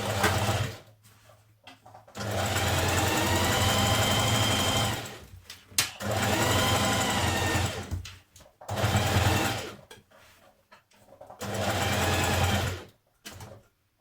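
A sewing machine back tacks while a dress is being altered, in a loud whirring burst of stitching. Short pauses and repeated runs follow, about four bursts in all with quiet gaps between them.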